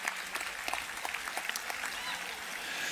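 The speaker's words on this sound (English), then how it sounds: "some applause" An audience at a spring university graduation ceremony applauds, a fairly faint, steady spread of clapping with a few crisp individual claps, and a voice may be faintly present underneath.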